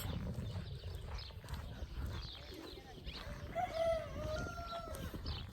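A rooster crows once in the middle distance in a village, clear over faint background noise and clopping sounds.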